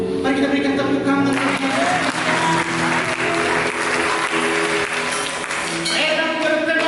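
A church congregation applauding during a sermon, a broad, sustained wash of many hands clapping at once, loud and continuous throughout, with some voices mixed in beneath the applause.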